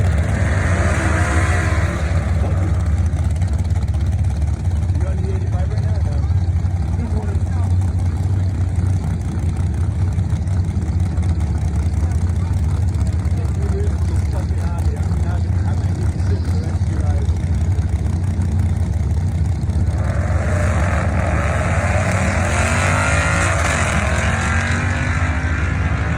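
A modded 5.0 car launches down a drag strip, its engine roaring as a loud, continuous drone at a distance throughout, rising toward the end.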